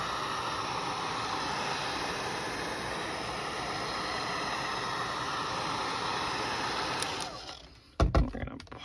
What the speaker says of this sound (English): I'm just gonna go over with my heat gun again and kind of seal it.